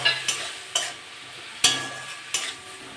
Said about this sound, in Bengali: মশলাটা কষে নেবো, একটু সামান্য জল দিয়ে দেবো।